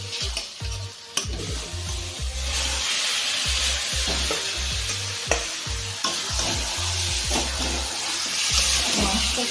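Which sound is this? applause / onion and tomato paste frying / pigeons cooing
onion and tomato paste frying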